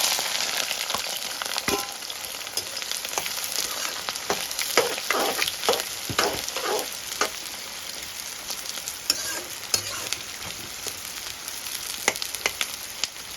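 Onions are tipped into hot oil with cloves and cardamom in a pan for mutton curry, frying with a loud, steady sizzle broken by crackles and stirring scrapes, close up and with no voices.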